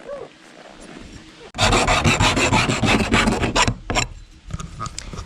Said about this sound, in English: after I'm done filing